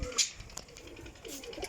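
Breeder pigeons kept as pairs in a loft coo softly and intermittently nearby over about two seconds, with brief scuffling noises and no speech.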